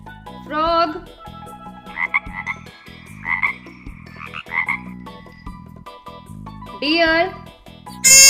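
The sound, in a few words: frog croaking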